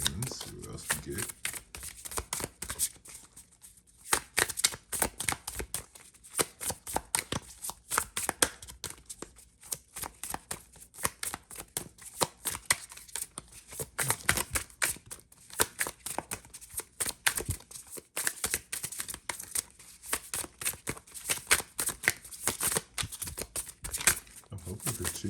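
Tarot cards shuffled by hand for a general reading, a long run of crisp riffling and flicking bursts with brief pauses, close and fairly quiet, with the shuffling continuing steadily throughout.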